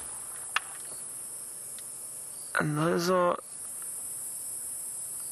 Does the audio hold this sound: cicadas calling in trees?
yes